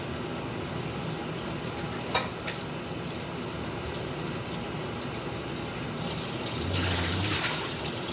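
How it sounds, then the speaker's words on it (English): Cold tap water runs steadily onto saltfish in a kitchen sink, a constant hiss and splash with one sharp clunk early on and the flow swelling louder toward the end. "Get some cold water on the saltfish."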